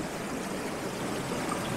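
Woodland stream in Horner Woods flowing past roots, a steady broadband rush of water, close and constant with no pauses.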